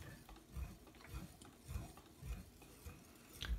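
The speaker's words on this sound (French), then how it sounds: "je vais remuer encore quelques minutes pour que tout soit bien mélangé" Crêpe batter being stirred by hand in a bowl, giving soft, rhythmic scraping swishes roughly every half second, close and fairly quiet with no talking.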